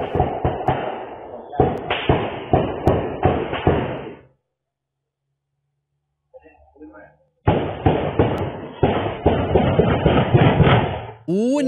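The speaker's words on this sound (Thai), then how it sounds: "ได้ยิงเสียงปืนนั้นยิงรัวเป็นตับประมาณ20กว่านัดครับ" Rapid gunfire of more than twenty shots, recorded by a residential CCTV camera, comes as dense volleys of sharp cracking reports in two long bursts separated by a few seconds of quiet.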